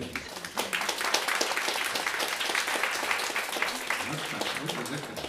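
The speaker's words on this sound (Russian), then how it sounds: "Но вы аплодируете, потому что это важно." Concert audience applauding, a dense, steady wash of many hands clapping that holds for several seconds at moderate loudness, with no clear voices standing out.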